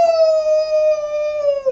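A person imitating a wolf howl: one long sustained, steady pitched tone held for almost two seconds, clear and close, dropping off at the end.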